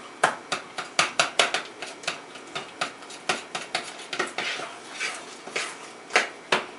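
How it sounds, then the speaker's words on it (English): Eggs being stirred fast into cream puff dough in a big pan, a quick run of sharp knocking and scraping clatters from the spoon against the pan, fairly close with no talking. "you need to stir in those 2 eggs right into your ball"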